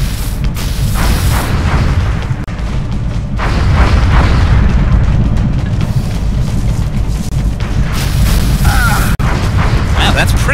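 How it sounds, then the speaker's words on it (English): Rocket explosions in the video game XCOM: Enemy Unknown, loud booming blasts with rumbling low-end texture layered through a dense game soundscape, and a sharp burst near the end. "Can we start throwing in the rockets,"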